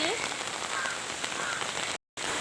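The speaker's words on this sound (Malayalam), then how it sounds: "മഴ വന്നു ഗായ്സ്" Rain falls in a steady, dense patter on surfaces nearby, a continuous hiss with one short dropout near the end.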